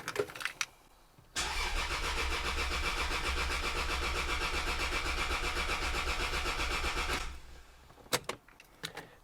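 A Toyota Soarer off the road for a decade cranks on the key without firing, a loud rhythmic starter churning for about six seconds before stopping, with scattered clicks and knocks before and after.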